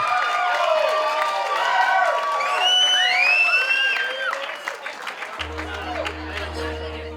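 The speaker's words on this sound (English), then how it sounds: "So how about a nice big round of applause for Greg and his mom." Applause and cheering fill a wedding reception at Stone Pond in Marlborough, New Hampshire, as a groom escorts his mother onto the dance floor; loud crowd clapping with whoops, then thinning as a sustained musical tone begins.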